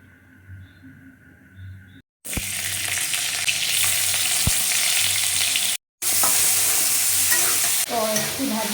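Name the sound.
frying onions in oil for pav bhaji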